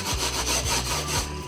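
A sponge rubbed in steady back-and-forth strokes over a wooden picture frame coated with candle wax, a continuous close scraping rasp with a repeating rhythm and no talking.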